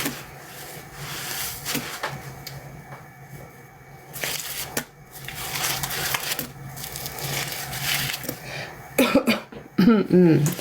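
Coughing and throat clearing from a person in a laundromat while laundry suds churn, a few close, raspy bursts spread over a steady wash-machine drone, loudest near the end.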